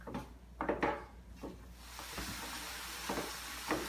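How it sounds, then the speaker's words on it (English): Ground venison and beef being broken up with a utensil in an electric skillet set to 350 degrees: several close scraping, knocking strokes, then a soft steady sizzle building underneath. "I'm going to turn my electric skillet to 350 degrees and get this beef broken up a little bit"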